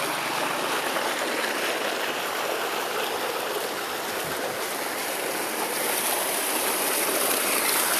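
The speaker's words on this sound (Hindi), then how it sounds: "ये हाउस में पानी जा रहा है" Water from a solar-powered tube well pipe pours steadily into a large concrete bathing tank, a continuous rushing gush with no talk, loud and close throughout.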